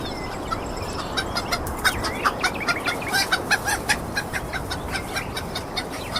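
Backyard chickens cluck steadily while being fed whole food in the morning in the Philippines, a close flock of overlapping rhythmic clucks with a busy outdoor background.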